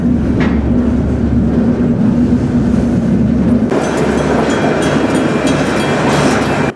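A freight train rolling into Salina rumbles steadily and close throughout, a low continuous roar of wagons with a brief metallic squeal early on and a shift in tone partway through.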